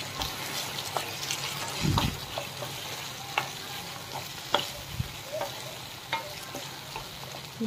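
Chilli paneer with tomato ketchup and Schezwan chutney is stirred in a pan, a steady sizzling frying hiss broken by scraping spoon knocks and clatters, close and moderately loud, with no talking.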